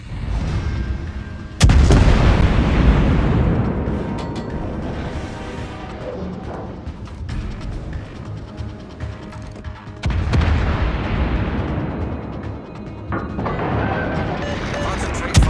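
Heavy naval guns fire in the warship battle game World of Warships, two huge booming salvos roughly eight seconds apart, each followed by a long rumbling decay beneath continuous battle ambience.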